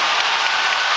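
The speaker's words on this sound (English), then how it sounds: "As loud as we've heard the crowd in a few minutes" A basketball playoff crowd cheers and applauds in a steady, loud wash of clapping and roaring that fills the whole moment without a break.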